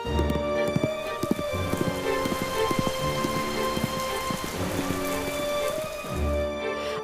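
Steady heavy rain pours down with low rumbles of thunder rolling through, a dense continuous wash of falling water with no voices.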